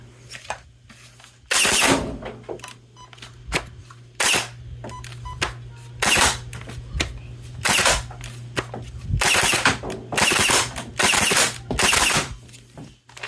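A BK1S foam dart blaster fires in burst mode, loud close bursts of rapid snapping shots in repeated groups with short pauses between, over a faint motor hum.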